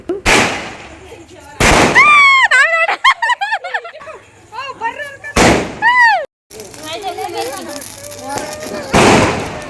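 Diwali firecrackers set off by a neighbour burst in four sharp, loud bangs spaced several seconds apart, with people shouting and laughing excitedly in between.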